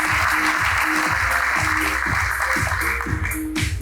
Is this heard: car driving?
no